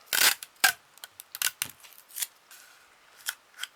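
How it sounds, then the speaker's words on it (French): Adhesive tape being pulled and pressed onto a decorated cardboard box styled as a Santa Claus head, a series of short crisp tearing and crackling bursts with brief pauses, close and fairly quiet. "on scotche."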